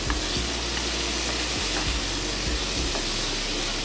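Food fries in a pan for mixed fried rice made with brown basmati, a loud, steady sizzle close by, punctuated by low knocking thumps from stirring, with nobody speaking.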